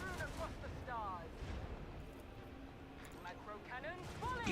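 Booming cannon bursts from ship-to-ship combat in a space battle video game, several heavy blasts in a loose, uneven volley, with a voice talking over the rumbling fire throughout.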